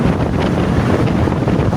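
A monsoon waterfall pours from several directions in a dense, loud, continuous roaring rush, with steady broadband noise and some wind buffeting on the microphone.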